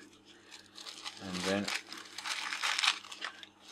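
A sheet of paper crinkles and rustles while being handled near a camera lens glass, close and fairly soft, with someone briefly speaking over it.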